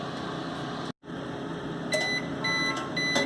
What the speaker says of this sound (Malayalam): എൻഡ് ആയിട്ടുണ്ട്. ബീപ്പ് സൗണ്ട് കേട്ടിട്ടുണ്ട്.